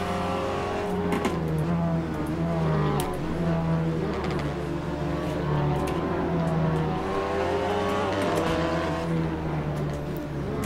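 Seat Leon race car circling Silverstone in Assetto Corsa during a one-make race, its engine droning steadily and loudly with rising and falling revs through gear changes and faint tire noise.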